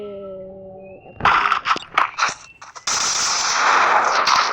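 AK rifle gunfire in a video game, a burst of sharp shots followed by a sustained loud rattle of automatic fire, loud and close.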